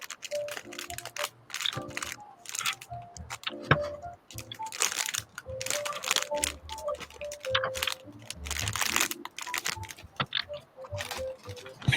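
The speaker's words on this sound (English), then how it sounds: "got an overly loud keyboard." Overly loud computer keyboard typed on during a relaxed livestream chat, rapid clattering keystrokes in irregular bursts, close and prominent over steady background music.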